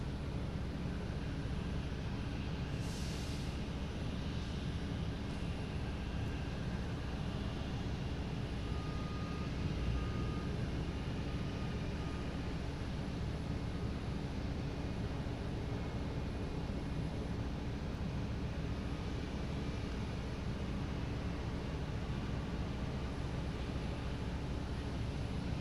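A Delta airliner arriving from London Heathrow at Boston Logan airport gives a constant far-off jet rumble and hiss that holds steady without talk.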